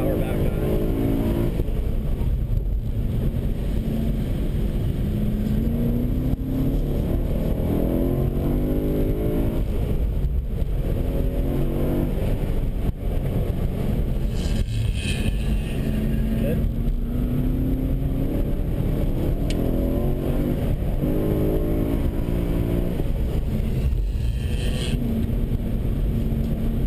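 A BMW M3 on a racing track, its engine note rising and falling as the driver lifts and squeezes back onto the power through a chicane, heard from inside the car, with a voice talking over it throughout.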